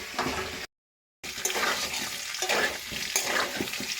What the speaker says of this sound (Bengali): এখন কিন্তু আলুটা প্রায় ভাজা ভাজা করে নিয়েছি